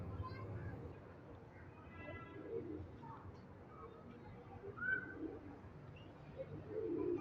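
Star pigeons kept by pigeon fanciers give soft, low, repeated coos nearby, quiet and partly masked by someone talking.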